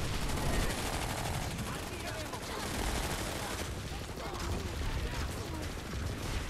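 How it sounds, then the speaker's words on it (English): Rapid gunfire from snipers in the PS4 video game Planetside 2, a dense, continuous stream of shots and battle noise at steady loudness throughout. "Yep, keep shooting at me, snipers."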